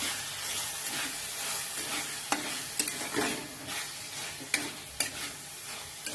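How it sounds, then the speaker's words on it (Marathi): Whole masoor lentils fry in a pan with a steady, bright sizzle and hiss, broken by a few sharp scraping stirs of a spoon, heard close up with no talking. "आपण याच्यामध्ये अख्खा मसुरा परतून घ्यायचा व्यवस्थित"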